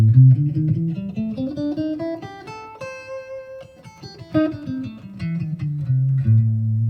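A guitar plays the blues scale in single plucked notes, climbing and then descending, with a bluesy feel, played alone and moderately loud.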